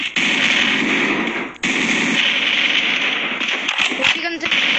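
Small gun firing in a video game, rapid continuous bursts of shots with a brief gap, under a voice speaking throughout.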